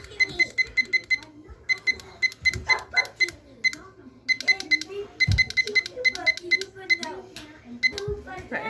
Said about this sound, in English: I don't want to annoy you with the beeps.